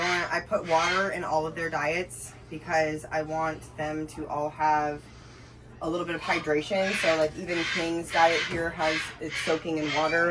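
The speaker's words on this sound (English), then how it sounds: "Sorry the birds are loud" Birds at an animal rescue in Florida during a cold snap, repeated loud caws and calls in the background under a person talking steadily nearby.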